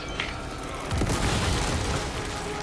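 Explosion in Resident Evil 4 Remake, a loud booming blast with a rumbling low tail that fills most of the clip after a brief quieter lead-in.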